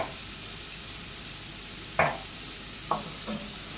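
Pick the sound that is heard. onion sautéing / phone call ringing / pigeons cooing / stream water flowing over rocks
onion sautéing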